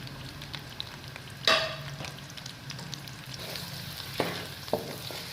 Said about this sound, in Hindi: अभी ऑयल हमारा गर्म हो चुका है। अब हम इसमें प्याज और लहसुन जो हम लोगों ने काटा हुआ था वो ऐड करेंगे।